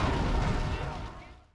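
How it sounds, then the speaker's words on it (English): A rigged car bomb detonates in Grand Theft Auto III, a loud, booming blast that rumbles and fades out over about a second and a half. "There's nothing better to get a job done than rigging a car to blow."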